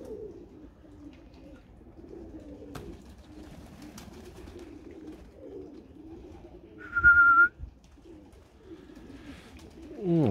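Budapest breed pigeons cooing at their loft, birds wet from rain, with soft low coos repeating steadily and one louder, brief whistling call partway through.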